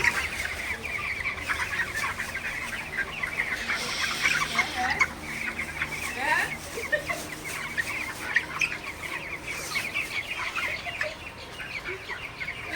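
A flock of broiler chickens in a poultry shed during intense heat clucks and murmurs continuously, with overlapping calls from many birds close by.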